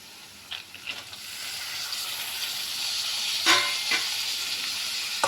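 Ginger garlic paste fries in hot oil, a steady bright sizzle with a few sharp spits and pops scattered through it, close and moderately loud with no talking.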